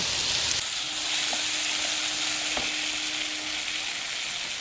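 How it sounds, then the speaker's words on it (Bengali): Masala seasoned with half a spoon of salt sizzles steadily in the pan while being stirred and fried for fish head moong dal, a close, continuous crackle with soft scraping and no voices. "হাফ চামচ লবণ দিয়ে এটাকে ভালো করে নেড়ে চেড়ে কষিয়ে নেব"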